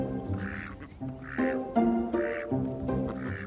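Ducks quacking in a close, rhythmic series of nasal calls, roughly four regular bursts with overlapping birds, heard outdoors on the Isle of Skye.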